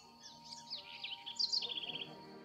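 A squirrel cuckoo (alma de gato), a large bird of forest edges also found in urban areas, gives a few faint, high chirping calls, a brighter burst of short notes near the end, over soft background hum.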